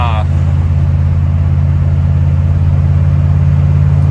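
A 1968 Thunderbird driving at night, heard from inside as a steady, loud low engine drone and road rumble that holds constant throughout, with a brief chirp at the very start.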